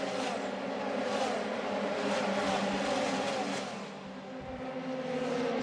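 Racing cars scream down the Monza straight in a slipstreaming fight, a dense, continuous high-revving engine roar that stays loud with a brief dip as the pack passes.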